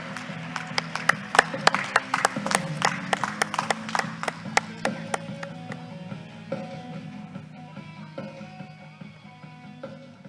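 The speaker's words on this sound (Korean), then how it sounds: "한중 미래를 이끌어갈 청년 대표들을 우렁찬 박수로 맞이해 주시기 바랍니다." An audience at a Korea-China youth dialogue conference applauds youth representatives, with sharp, dense clapping from a room full of attendees that thins out and softens over about ten seconds against a low background hum.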